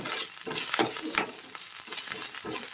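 Ginger garlic paste fries in hot oil in a pan while a spatula stirs it, a continuous close sizzle broken by soft, regular scraping strokes.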